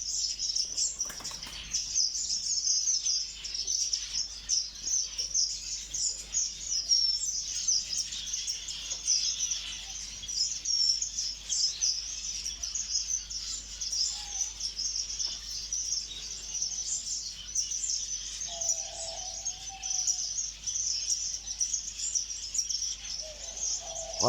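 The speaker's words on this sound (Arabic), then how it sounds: "هاي الطيور الفينيشات" Finches chirping steadily in a large Iraqi aviary holding many bird species, a dense bright twittering chorus that runs continuously with occasional wing flutters, no voices.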